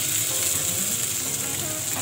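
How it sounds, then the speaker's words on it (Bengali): Onions fry in a pan for Punjabi chicken curry, giving a continuous close, loud sizzle with faint stirring underneath and no talk. "পেঁয়াজগুলো আমার প্রায় ভাজা হয়ে গেছে"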